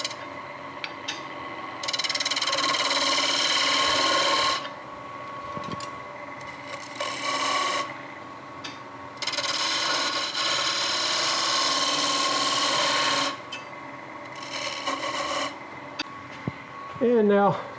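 A wood lathe fitted with a cone center spins at about 1100 RPM while a handle blank is turned, giving bursts of loud broadband whirring and rubbing that stop and start several times, with a steady tonal hum running through.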